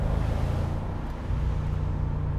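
A Mercedes SL 55 AMG drives at an easy pace, its engine a steady, deep low rumble that stays constant and fairly loud from start to finish.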